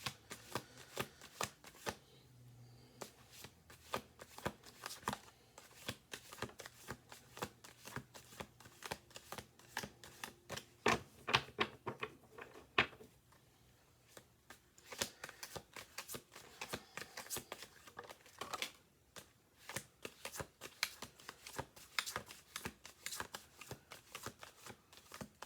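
Playing cards being shuffled over and over at a table, a long run of crisp riffling clicks and snaps in repeated bursts with brief pauses between passes, close and fairly loud.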